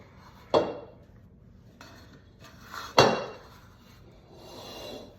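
A scraper works sourdough out of a bowl in a home kitchen, producing two sharp scraping knocks against the bowl about two and a half seconds apart, with softer rubbing and scuffing sounds between them and no talking.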